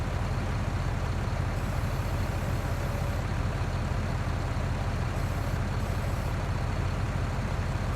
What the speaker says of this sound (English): this tractor that saved the day for me a couple weeks ago at this point, now towing that tractor out of the ditch